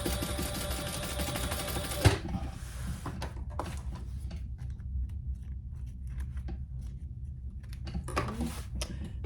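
A sewing machine stitching closed one side of a zipper on a tote bag, running in a steady continuous whir for about two seconds, then going quiet with scattered small handling clicks before a brief restart near the end.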